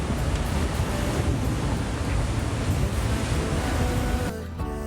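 A sailboat at about 70 degrees apparent wind angle runs through sea waves off Naxos, with continuous loud rushing water, wind buffeting and hull wash, ending abruptly.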